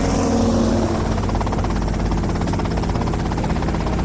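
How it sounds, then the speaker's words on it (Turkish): A helicopter in GTA: Vice City arrives with a steady, loud rotor drone and engine hum that stays even throughout, with no voices over it. "Okay, that's them in the chopper."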